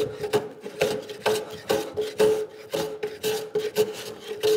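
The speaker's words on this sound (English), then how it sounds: "And that's great for that final surface planing" Hand plane working a wooden board for final surface planing, with rhythmic, close rasping strokes repeating about twice a second and no voices.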